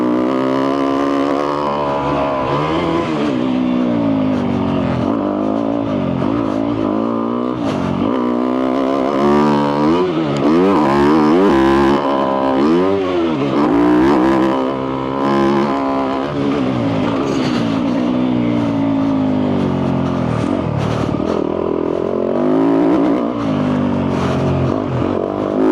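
A Yamaha YZ250F dirt bike engine is ridden hard, its loud close buzzing note rising and falling in repeated revving sweeps as the rider shifts, continuous and without talk.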